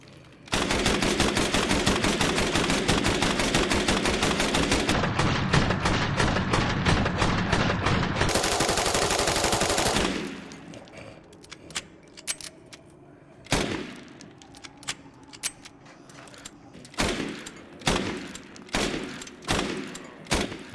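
Fully upgraded V61 machine pistol in Resident Evil Village firing long, loud continuous automatic bursts for about ten seconds, followed by scattered single shots and short bursts.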